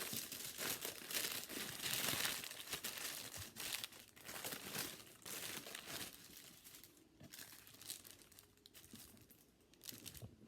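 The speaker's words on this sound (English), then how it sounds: "So you can kind of use your wax paper." Wax paper crinkles and rustles continuously while hot homemade playdough is handled on it, a soft, close, irregular crackling with no talking.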